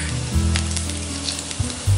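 Whole cumin seeds hit hot oil left over from frying okra for bhindi do pyaza, making a close, steady sizzle with a low hum beneath and a few brief bumps of stirring.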